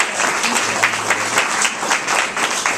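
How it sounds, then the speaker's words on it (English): An audience at an environmental justice event bursts into steady, close, lively applause of many hands that carries on evenly for several seconds. "So let's give them a round of applause for all of us."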